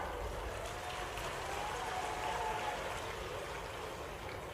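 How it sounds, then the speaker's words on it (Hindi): Farmers at a rally applaud the chief minister, a dense, steady wash of clapping from a large outdoor crowd that holds at an even level throughout. "किसान भी ताली बजा करके अभिनंदन करें मुख्यमंत्री जी का।"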